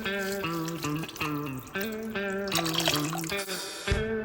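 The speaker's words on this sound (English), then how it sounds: "Pour in broth." Broth pours into a slow cooker crock pot, a steady liquid splash and trickle over soft background music with sustained tones.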